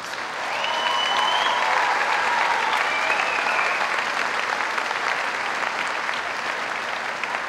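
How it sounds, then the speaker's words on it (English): Steady, full applause from a large audience at a Wadsworth High School class of 2010 graduation ceremony honoring students, a dense wash of clapping that swells in and holds without pause. "Please join me again in honoring these students with a round of applause."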